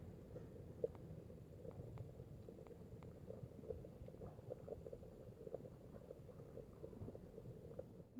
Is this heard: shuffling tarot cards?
no